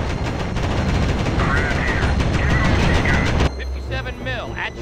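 Gunfire from the World War II strategy game Company of Heroes rattles in dense, rapid bursts mixed with machine-gun fire and battle noise and voices, then cuts to quieter effects.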